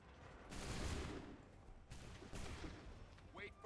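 A musket volley in Assassin's Creed III, heard as two faint, distant bursts of massed gunfire with crackling tails, and a brief voice at the end.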